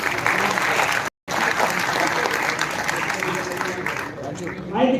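Audience at a Techspardha'22 event applauding a guest: dense, sustained clapping from a crowd indoors, cut off by a short gap of silence near the start before it carries on, with a voice rising at the end.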